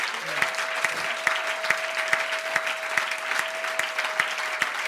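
Church congregation applauding during a worship service, steady dense clapping from a crowd filling the whole stretch, with a sustained organ or keyboard tone held underneath.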